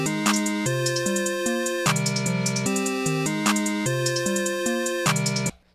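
Hi-hats tick steadily, with quick bursts of rapid rolled hits now and then, riding over a looping synth melody and bass; no one speaks.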